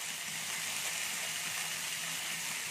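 Chopped green chillies and spinach frying in oil in a pan, a continuous soft hiss and sizzle at moderate distance, fairly quiet and steady, no talk.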